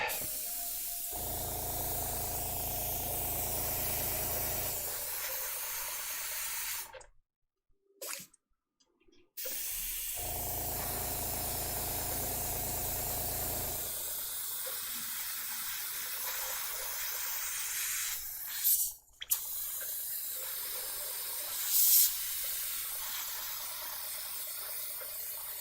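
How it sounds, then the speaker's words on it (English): An airbrush or spray gun hisses steadily while applying another coat of paint to a small figure, with several brief pauses and a few short bursts near the end against a quiet room. "Let's go back to Krampus for another coat"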